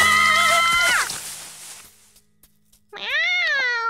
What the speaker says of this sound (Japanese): なんだ猫か、脅かすなよ